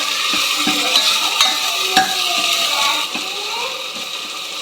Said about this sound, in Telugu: కొద్దిగా జింజర్ గార్లిక్ పేస్ట్, పసుపు వేసుకొని కలుపుకుందాము.